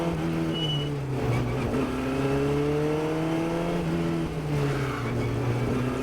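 A Formula Ford race car runs on track at Summit Point Motorsports Park, its engine droning loud and close in the cockpit, with pitch rising and falling as the driver shifts and tests the brakes.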